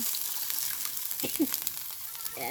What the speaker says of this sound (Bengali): এই এইবার ঝোলের পানি দিয়ে দিলাম